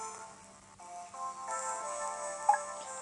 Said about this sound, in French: Le téléphone sonne au salon.